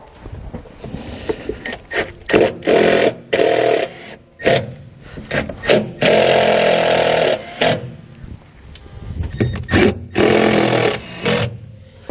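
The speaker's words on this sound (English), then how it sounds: "We're going to use these holes to secure our actuator to this bottom panel here." A power driver runs self-tapping screws into the bottom panel of a 2020 Jayco Pinnacle trailer while mounting a HydraStar electric-over-hydraulic actuator, making repeated loud whirring bursts separated by short pauses, close up.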